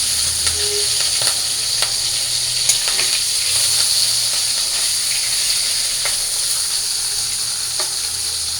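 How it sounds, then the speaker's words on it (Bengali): Fish frying in hot oil gives a steady, fairly loud sizzle with scattered small pops and clicks throughout, with no one talking. "তো মাছগুলো আমার প্রায় ভাজা শেষ"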